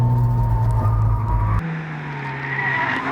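Ford Fiesta ST hot hatchback on pavement tires pushed hard on a track, its engine droning loudly close by with tires skidding, then the engine note drops abruptly as the throttle lifts and the car carries on at a quieter hum.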